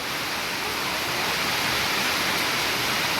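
Steady, dense rush of flowing water after heavy rain, a continuous broadband roar close by with no breaks and no voices.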